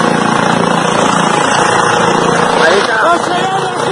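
A presidential helicopter flying over a crowd in Argentina gives a loud, steady rotor and engine drone, mixed with shouting voices throughout.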